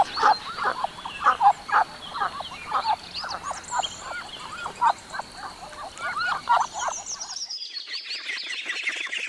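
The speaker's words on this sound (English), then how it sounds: "duck" A duck quacks in a rapid, uneven series of nasal calls, loud and near, before the calling breaks off and faint high chirps carry on alone.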